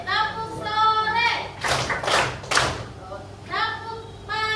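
Children in a classroom clap a patterned rhythm, with bursts of quick claps and thumps between stretches of a teacher talking.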